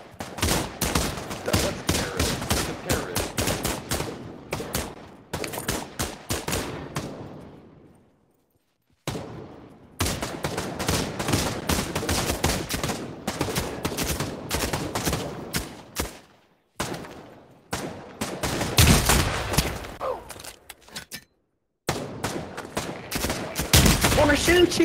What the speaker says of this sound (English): Stop shooting us, damn it.